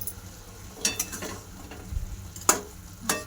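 Radish pods are stir-fried in a pan, with a spatula scraping and tapping in a few scattered strokes over a low, quiet sizzle. No one speaks.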